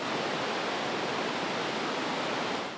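Water pours over Kakabeka Falls on the Kam River in a constant, even, full-bodied rushing roar with no other sounds or voices.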